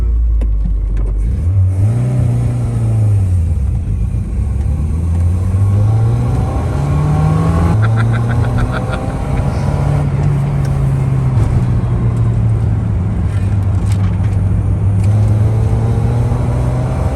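A 1981 Volkswagen Golf 1 cabriolet carburettor engine, choke partly pulled, catches and runs, its revs rising and falling in several smooth swells, loud and close with a steady mechanical roar throughout.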